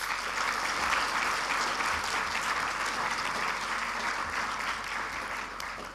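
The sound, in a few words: audience applause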